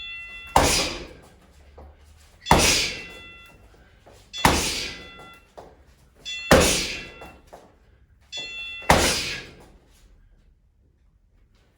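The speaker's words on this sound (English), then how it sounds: "So I'm hitting the pad." Punches land on the pad of a PowerKube punch machine, five heavy thuds in a steady rhythm about two seconds apart, each close and loud with a short rattling decay.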